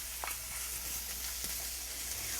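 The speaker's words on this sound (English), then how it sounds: "Our pan is nice and hot and ready for our succotash. Hear that wonderful sizzle?" Steady sizzling of succotash vegetables frying in a hot pan, a continuous crackling hiss with a few small pops, no voices.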